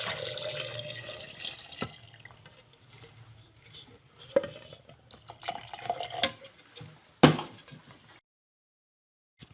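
Water poured into a container of grapes, sugar and black salt while making grape juice, heard as irregular splashing with a few sharp clinks that fades into silence at the end.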